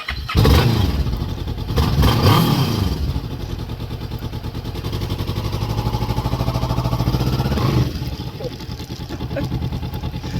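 A Kawasaki Vulcan S 650 motorcycle ridden a short way down a block, its engine revving up loud and near, easing off, then holding a steady throbbing drone.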